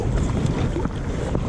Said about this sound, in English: and I am paddling out